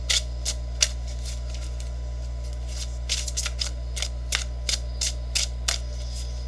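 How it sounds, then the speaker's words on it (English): Soft, irregular papery clicks and riffles come in quick bursts over a low steady hum as slightly oversized tarot cards are shuffled nearby. "Have to really concentrate on shuffling because these cards are just slightly larger"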